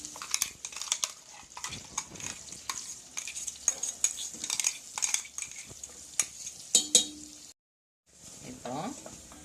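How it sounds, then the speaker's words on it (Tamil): Turmeric and masala being stirred into a chilli pickle, with a spoon scraping and clinking against a pan under a steady sizzle of frying. The stirring comes in repeated close strokes, with a brief silent gap near the end. "கொஞ்சம் மஞ்சள் அப்புறம் இந்த மசாலை கலந்து"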